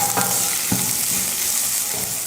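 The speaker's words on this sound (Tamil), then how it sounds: "வெங்காயத்தை அதிக நேரம் வதக்க தேவையில்லை, இந்த அளவுக்கு வதக்குனா போதும்" An onion sizzles steadily as it sautés in a pan for an instant breakfast dish, with a few soft stirring scrapes and no talking.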